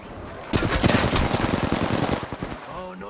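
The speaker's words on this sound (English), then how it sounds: "You're getting shot at." Rapid automatic gunfire from the battle royale video game Apex Legends, a dense burst of close shots lasting a couple of seconds, then tapering off as a voice begins talking.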